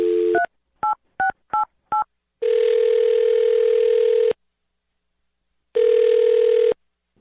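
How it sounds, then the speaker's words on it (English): A landline telephone number is dialed as a quick run of five or six touch-tone beeps, then two long, loud ringback tones separated by a pause of silence, with no voices. "I'm going to dial her phone number right now"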